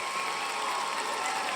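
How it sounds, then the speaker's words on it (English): Audience applause with cheering fills a studio-style hall at a talk show for a floral designer turned artist, a dense steady wash of clapping that holds at even loudness throughout. "a lot of clapping"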